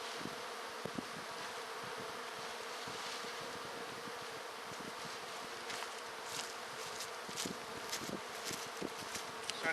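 A colony of tens of thousands of honeybees drones from an open hive during a spring inspection, a faint, continuous buzzing that stays even throughout, with scattered light rustles and ticks on top.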